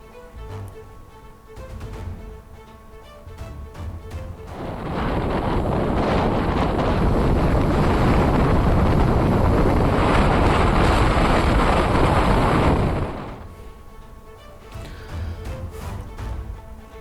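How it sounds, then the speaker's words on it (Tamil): Strong gale winds batter the coast at Dhanushkodi near Rameswaram beside a rough sea, a loud roaring rush of wind and surf that swells to a sustained peak for several seconds before easing back, with no voices. "ராமேஸ்வரம் பகுதியில் பலத்த சூறை காற்று வீசியதால் தனுஷ்கோடியில் கடல் சீற்றத்துடன் காணப்பட்டது."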